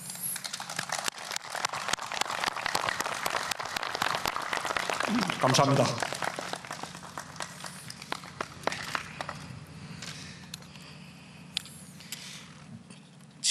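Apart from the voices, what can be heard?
applause at the inter-Korean summit joint announcement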